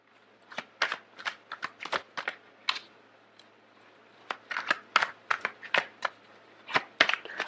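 Tarot cards are shuffled and drawn by hand at close range, giving irregular clusters of crisp snaps, flicks and taps with short pauses between them and no voices.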